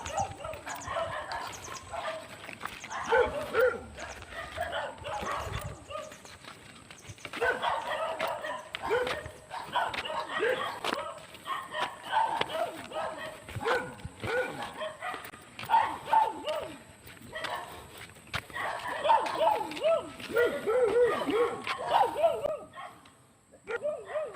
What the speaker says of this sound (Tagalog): Mga aso lang maririnig eh. Mga aso ng kapitbahay